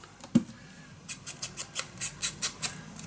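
Scissors snip through a leftover paper strip while making a scrapbook mini album, about eight quick crisp cuts in a steady rhythm, close and fairly quiet, with no talking.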